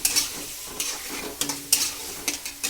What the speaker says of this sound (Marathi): फिश टाकल्यानंतर ही आपल्याला छान परतून घ्यायची आहे